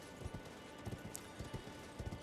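Horse hooves in the video game Elden Ring pound out a quick, rhythmic gallop of soft thudding clip-clops, steady and mid-distance, over a faint game ambience.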